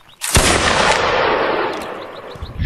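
A musket volley in Mount & Blade: Napoleonic Wars, one sudden loud crashing blast of many guns firing together that rolls into a long fading rumble, with faint scattered pops afterward.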